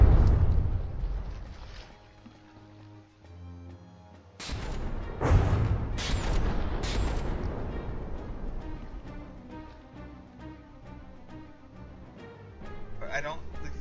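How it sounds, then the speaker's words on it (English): Gunfire and explosions from vehicle battles in the game From the Depths, as craft trade shots: rumbling booms and bursts, some sharp and loud, others distant, repeating irregularly amid continuous game noise. "Shots getting fired, the Phoenix pulling away a bit."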